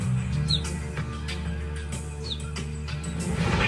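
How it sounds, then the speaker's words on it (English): A cheetah mother gives bird-like chirps to call her separated cubs: two brief, high, thin calls over a steady low background hum. "When she gets separated from her cubs, she's going to start to chirp like a bird."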